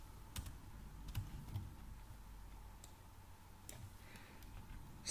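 Typing on a computer keyboard while writing code, heard as a faint, steady patter of scattered key clicks over a low background hum.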